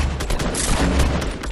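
Rapid bursts of gunfire in the battle royale game Fortnite, dense and loud throughout with overlapping shots and booms, no talk.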